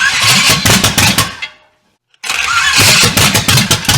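A 500 hp V8 engine swapped into a Honda, cranking and catching into loud, rough, close idle pulses that cut out for a moment of silence, then restart and run unevenly.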